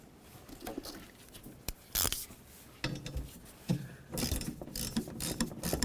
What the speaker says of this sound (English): Get the nut on here, go ahead and snug it up.